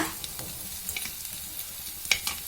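Chicken gizzards frying in a pan, a steady soft sizzle with occasional stirring scrapes and small crackles, close and moderately loud, no voices.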